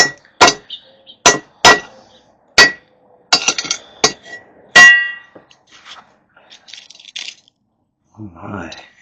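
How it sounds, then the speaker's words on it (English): A hammer strikes glassy slag from melted pyrite-rich gold ore in sharp, ringing clanks, about eight loud close blows in an uneven rhythm, followed by quieter clinking and rustling. "Get the glass busted up."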